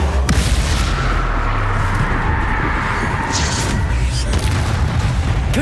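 Booming blasts from a Confringo fire spell in the Hogwarts Legacy game pile up into a loud, continuous rumble of explosions and bursts with a few sharper cracks, dense and close throughout.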